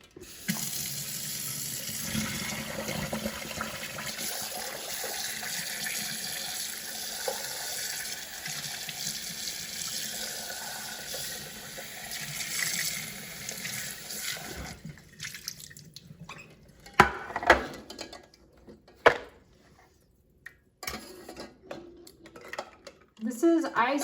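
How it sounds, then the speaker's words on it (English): Cold tap water rushes steadily over boiled eggs in a kitchen sink, then cuts off and gives way to drips, clinks and handling clatter, with someone talking nearby. "I'm going to take the eggs out after I run them under cold water"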